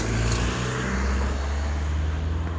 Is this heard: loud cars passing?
yes